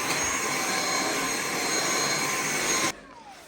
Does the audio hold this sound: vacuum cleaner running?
yes